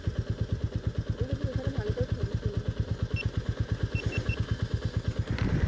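A Royal Enfield Meteor 350 motorcycle engine thumps at a steady idle-like pace, a close, even train of low pulses with a faint clatter and brief chirps above it.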